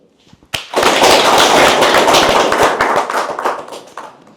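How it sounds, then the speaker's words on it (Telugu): An audience bursts into loud, sustained applause at a heartfulness talk, many hands clapping together for about four seconds before thinning out toward the end. "సో దానికి మనందరం చప్పట్లు."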